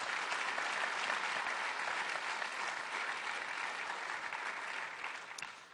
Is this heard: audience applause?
yes